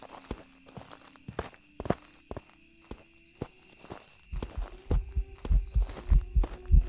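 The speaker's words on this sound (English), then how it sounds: "I keep listening to the footsteps, and I just think the footsteps are normal." Footsteps in a ghost-hunting video game, a steady walking pace of distinct thuds over a faint electronic hum, growing heavier and louder toward the end as the steps seem to come closer.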